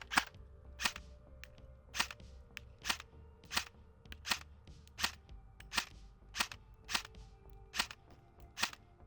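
Lancer Tactical KR-103 airsoft gun firing at a target about 50 feet away with 545 magazines: eleven sharp, evenly spaced snapping shots roughly every 0.7 seconds, crisp and fairly close over a faint steady background hum.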